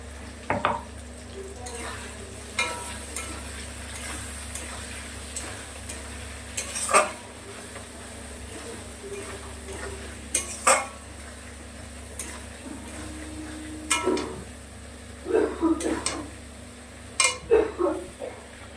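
Fried potatoes with poppy seed paste stirred in a pan, with a soft steady sizzle under repeated scraping strokes and occasional sharp clinks of a utensil against the metal, no talking.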